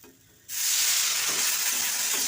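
Semolina upma with vegetables hits a hot pan and erupts into a loud, steady steamy hiss and sizzle that continues without a break, with faint stirring underneath.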